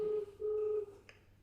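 Phone being dialed indoors: two short key tones in quick succession, followed by a faint click.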